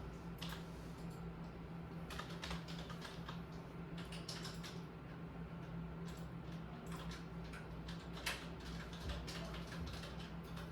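Steady computer keyboard typing during a spreadsheet software lesson, soft continuous key clicks at a low level throughout, with faint background hum.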